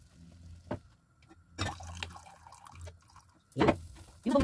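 Water is added to a cooking pot during home cooking of a dinner dish. Splashing, dripping water comes in three short bursts, moderately close, with quieter gaps between them.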